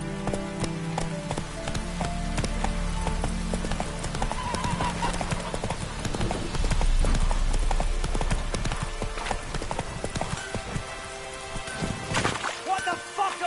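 The Witcher 3: Wild Hunt horse Roach gallops hard, loud dense hoofbeats pounding steadily with snorts and a whinny, while a voice speaks briefly over the run.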